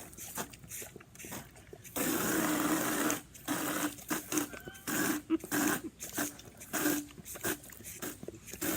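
A dog laps water straight from an outdoor tap while fish fertilizer is being made in a garden; running water hisses steadily beneath quick, close, rhythmic lapping.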